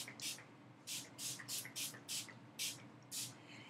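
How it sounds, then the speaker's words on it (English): A pump bottle of Shea Moisture hold and shine mist is sprayed onto hair rollers in short, airy spritzes, eight quick pumps at an uneven pace, quiet and close, with no talking. "I'll just spray that on the rollers just to give it a hold."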